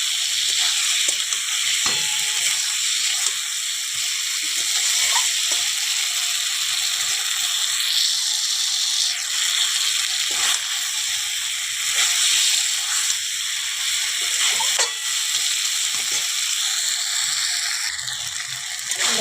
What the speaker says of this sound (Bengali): একটু ভালো করে কষিয়ে নেব।